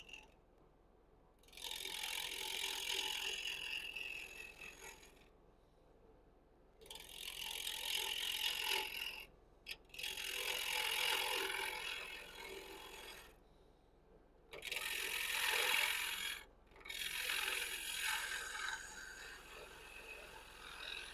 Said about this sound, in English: I'm just going to cup out a little bit more with the hollower